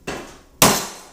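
Two sharp hammer blows ring out on a metal piece clamped in a vise during a 1997 Toyota Tacoma drift truck fuel cell install, the second louder, each with a short metallic decay.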